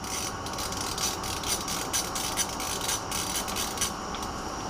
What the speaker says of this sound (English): So you're just going to loosen the 2 bolts